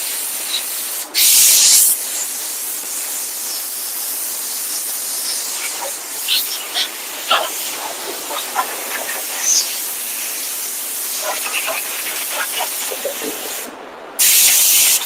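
Compressed air hisses loudly in long bursts as it blows sanding dust off a subwoofer box being prepped for gloss paint, with short harsh blasts at the start and end and rustling scuffs between them.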